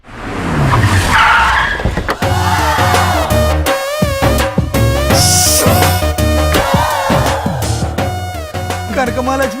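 Cars pull up with sharp, squealing tires that skid in repeated bursts, heard close and loud over a dramatic film soundtrack.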